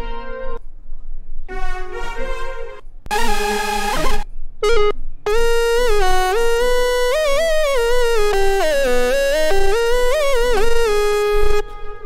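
Bright synth preset from a VST plugin library built for Bhojpuri, Haryanvi and Rajasthani song production, starting with separate short notes and then moving into a sustained, sliding melodic lead line with rich harmonics, loud and alone with no talk.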